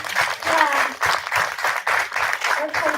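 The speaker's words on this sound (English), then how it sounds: "Let's welcome him with a warm clap." An audience at the Innsbruck Nature Film Festival award ceremony claps warmly to welcome a jury member, a steady wash of applause in pulsing waves lasting the full few seconds.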